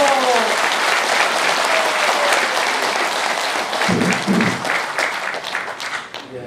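A crowd at a large outdoor rally in hot weather applauds steadily and loudly, the clapping dense and sustained before tapering slightly near the end.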